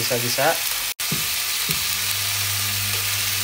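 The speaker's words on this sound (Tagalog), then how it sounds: "Maggisa tayo ng kamatis at sibuyas." Tomatoes and onions sautéing in a pan, a steady close sizzle of frying throughout, with brief speech at the start and a short dropout near one second.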